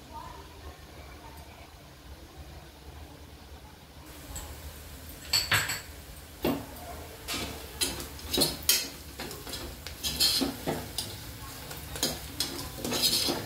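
Mutton frying with turmeric in a pan, a faint sizzle that turns into louder scraping and stirring clatter against the pan in irregular bursts, with someone talking over it.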